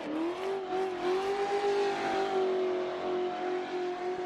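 A BMW M4 G82 engine in a racing video game holds a steady, sustained high drone with slight pitch wavering, loud and continuous, with no speech over it.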